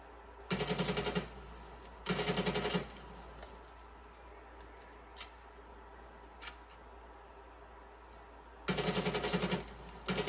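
A Krieg 6 rifle fires in three short rapid bursts in the video game Call of Duty Cold War, each loud crackling volley about a second long, with quiet gaps and a few faint clicks between.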